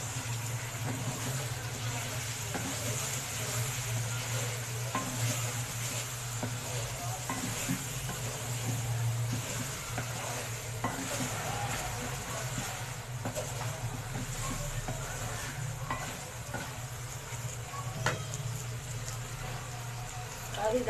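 Chicken karahi frying in a pan with tomatoes, a steady low sizzle and occasional stirring scrapes running throughout, with faint background noise.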